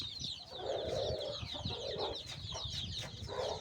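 A breeder rooster and other chickens cluck in short, repeated bursts close by, with higher chirping from other birds running steadily underneath. The sound is fairly quiet overall and no one talks.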